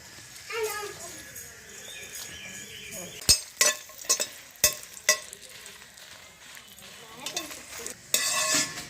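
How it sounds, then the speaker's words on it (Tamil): Dried red chillies roast in a hot, dry pan and are stirred, giving a soft sizzle with a run of sharp scraping and clinking strokes midway and more near the end. "இப்போ சட்டி காஞ்சிருச்சுங்க. வரமிளகாயை வறுத்துக்கிடலாம்."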